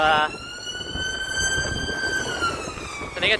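A wailing emergency siren holds a steady rising and falling tone throughout, fairly close and loud, with faint background noise.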